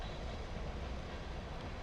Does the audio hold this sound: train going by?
yes